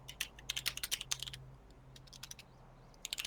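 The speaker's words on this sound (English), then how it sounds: "banging your keyboard doesn't help you, Sean." Someone types hard and fast on a computer keyboard, a close, quiet run of clacking keystrokes with short pauses between bursts and a faint hum underneath.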